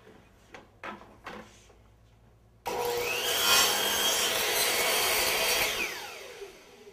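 A saw held straight at 90 degrees cuts through wooden door casing trim, a steady loud rasping run of about three seconds that follows a few short rubbing and handling knocks and fades out at the end.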